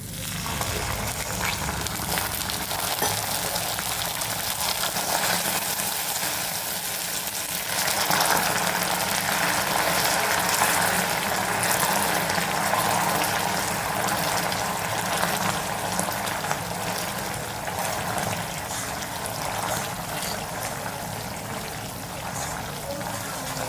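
Continuous rushing and hissing as water is poured into hot caramel in a pan for sweet potato burfi, a long steady sizzle and bubbling.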